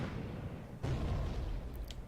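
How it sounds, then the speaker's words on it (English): An explosion hits the airship HMS Princess and Servants under gunfire in the video game Code: Realize. One heavy, booming blast strikes suddenly over a low rumble and then rolls on as a dense roar, with faint higher clatter near the end. "We hear an explosion and feel a jolt."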